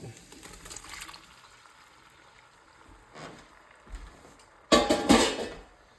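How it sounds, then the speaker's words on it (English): Chunks of chuck steak dropped back into a pot of garlic butter and tossed, giving a few soft clattering stirs followed by a louder burst of scraping and rattling near the end. "Now we're gonna add our steak back into this pot."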